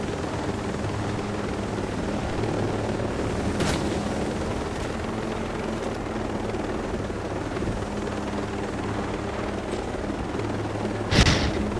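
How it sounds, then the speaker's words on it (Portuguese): A helicopter in the military shooter Ghost Recon Breakpoint flies fast and low with a steady, loud rotor drone, joined by a few sharp distant bangs. "Pô, a gente pegou um helicóptero bom,"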